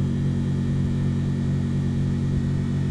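A treadmill motor on a variable speed control drives a homemade flat lap machine for rock cutting, giving an even, unbroken hum at low speed, close and alone.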